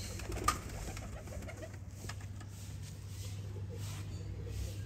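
Soft cooing of breeder pigeons amid a steady outdoor hum and background noise, with a brief sharp sound near the start.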